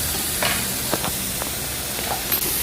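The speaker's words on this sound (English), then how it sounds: "and stir well to mix well again" Beetroot sabji with garam masala is stirred in a pan, giving soft scraping strokes over a steady background sizzle, a few distinct spoon movements close by, no voice.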